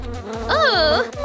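A cartoon bee buzzes with a warbling, bending whine that rises and swoops over a low background hum, punctuated by a few soft thumps, with no speech.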